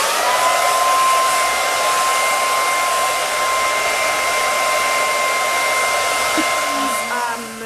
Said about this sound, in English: So I'm going to use my hand dryer.